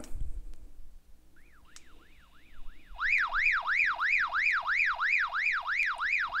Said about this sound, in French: un signal d'alarme sur l'autre radio qui est sur la même fréquence